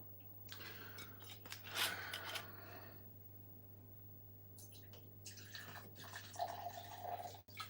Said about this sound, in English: I'm drowning my sorrows with a rum and coke.